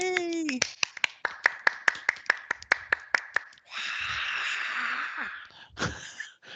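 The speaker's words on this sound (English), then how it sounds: "And the crowd goes wild." A live studio audience bursts into a run of sharp, rhythmic claps, then swells into loud cheering and whooping that fills the room for several seconds before dying away.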